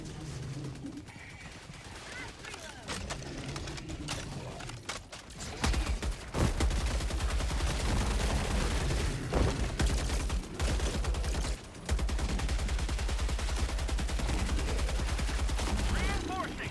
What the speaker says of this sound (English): Anyone else prefer the old HMG sound?